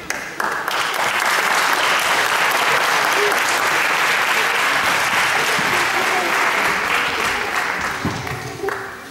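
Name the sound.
audience applause at Christmas concert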